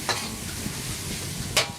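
Food being stir-fried in a wok at a Bangkok street-food stall: a continuous close sizzle with scraping spatula strokes, and a sharper clank of metal near the end.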